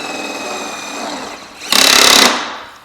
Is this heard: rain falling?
no